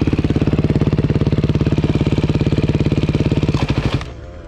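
A motorcycle engine putters at a steady idle with a fast, even, pulsing thump, loud and close, then cuts out abruptly near the end, leaving faint background noise, with no talk.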